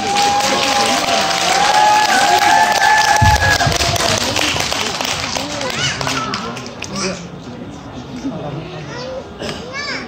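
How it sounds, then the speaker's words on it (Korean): Audience applause after a children's fan dance performance by a young group including a six-year-old, a broad wash of clapping from a crowd with children's voices and cheers mixed in, steady then thinning toward the end. "다시 한번 박수 쳐주세요"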